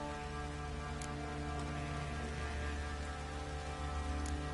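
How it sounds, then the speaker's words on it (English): Light drizzle from The Witcher 3 falls as a steady, even patter of fine raindrops on surfaces, holding at a constant moderate level over a low, continuous ambient rumble with no voices. "Oh, it's drizzling."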